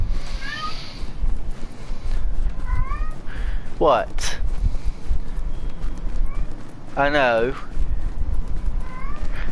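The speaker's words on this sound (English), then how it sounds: "That's basically my cat right there crying." A house cat cries with a few drawn-out meows, the two loudest in the middle and near the end, while a person talks and other sounds continue in the background.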